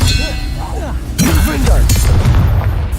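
Expelliarmus disarming spell cast during Hogwarts Legacy play, a shouted incantation followed by a bright magical boom and clanging impact, then a sustained loud burst of effects.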